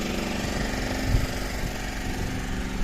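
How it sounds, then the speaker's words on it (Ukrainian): A power generator runs during a blackout near a market, giving a steady, dense mechanical hum with a buzzing engine rattle that stays constant and fairly loud throughout, with no talking. "Відключили світло. Генератор, бачите, гудить."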